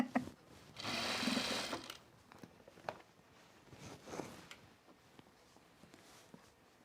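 A serger stitching fabric for pajama pants, a loud steady whirring run of about a second near the start, followed by quieter handling clicks and brief bursts of machine noise.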